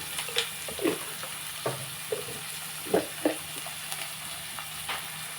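Onions with salt sauté in a pan, a soft continuous sizzle broken by occasional spoon scrapes and stirring knocks, close and without talk.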